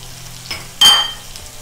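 A sudden sizzling burst as sliced green chilies drop into hot oil with chopped onions, flaring loudly then settling into a softer, steady fry, with no voices.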